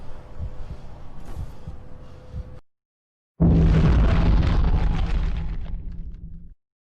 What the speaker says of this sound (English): Why is the heartbeat sound still playing?